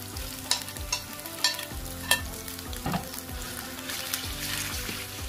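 Marinated chicken sizzles and fries in a pot for a yogurt herb curry, with steady crackling throughout and repeated scraping stirs at a regular rhythm, heard up close with no talking.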